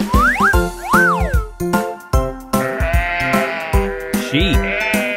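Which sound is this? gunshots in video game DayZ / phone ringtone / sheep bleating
sheep bleating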